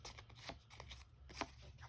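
Two playing cards shuffled during a tabletop card game, a quiet series of soft papery flicks and slides in an irregular rhythm, close and faint with no talk.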